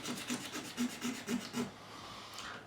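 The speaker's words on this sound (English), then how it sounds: "Scraping the whole fingerboard area." A scraper is worked back and forth across a guitar fingerboard between the 11th and 12th frets of a Squier '72 Telecaster during fret reseating and gluing. It gives about six quiet, rhythmic rasping strokes close up, then stops.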